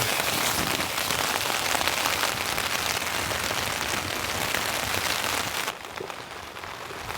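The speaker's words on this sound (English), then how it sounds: "The rain has eased a bit, but it's still coming in." Heavy rain drums hard and constantly on a tent pitched in the mountains during a rainstorm, a dense close hiss that suddenly drops to a lighter patter near the end.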